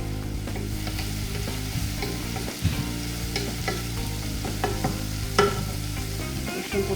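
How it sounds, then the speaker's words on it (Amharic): Onions frying in olive oil in a pan while being stirred, a steady close sizzle broken by scraping and clinking of the stirring utensil. "የምጠቀመው ኦሊቭ ኦይል ነው። ሽንኩርቴን እጨምራለሁ። ሽንኩርቱን እጠብሳለሁ።"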